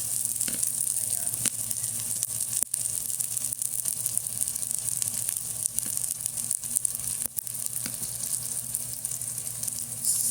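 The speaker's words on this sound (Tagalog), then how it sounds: "igisa muna natin yung ating bawang sibuyas at luya" Garlic, onion and ginger sauté in a hot pan with oil, a constant bright sizzle lasting throughout, with occasional stirring scrapes.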